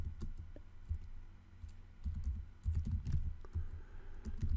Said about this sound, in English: if I could type right